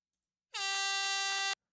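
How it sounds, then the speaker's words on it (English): A single loud air horn blast, steady and sustained for about a second, starting and stopping abruptly with no voices. "if you have a better air horn one"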